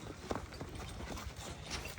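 Hooves of a Cholistani cross cow clop over the ground as it is led along, a loose run of close, uneven steps with no talk.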